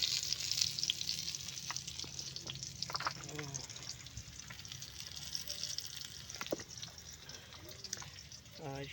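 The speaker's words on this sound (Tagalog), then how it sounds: "Prito lang tayo ng saging" Steady sizzle of bananas frying in hot oil runs throughout, with occasional clinks and soft sounds of stirring; a voice speaks briefly in the background.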